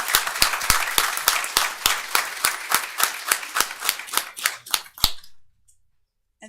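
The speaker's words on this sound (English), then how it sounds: "Applause." A small audience at a school board meeting gives a brief burst of applause, a few distinct hand claps at close range that quickly thin out and stop, leaving near silence.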